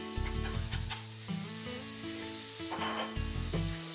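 Diced onion sizzles and fries in bacon oil for a potato and leek tart, with a steady close crackle broken by several scraping stirs of a utensil against the pan.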